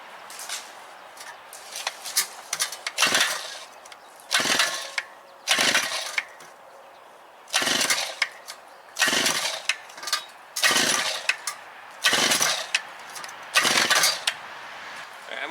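A Predator 52cc two-horsepower auger powerhead being pull-started with the choke set, about ten quick recoil-cord yanks in a steady rhythm, each a sharp ratcheting whir followed by a short pause, with no engine catching.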